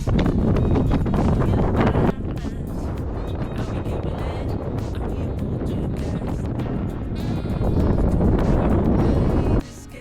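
Strong wind on the Koko Head Crater summit on Oahu, Hawaii, buffets the microphone in a loud, continuous roar across the whole stretch, with a brief dip near the end.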